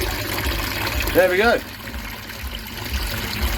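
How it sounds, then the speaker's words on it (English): Water trickles and splashes into a small garden mini pond as a freshly reconnected pump line starts up, a steady watery wash running beneath brief speech. "I think we should have water come in."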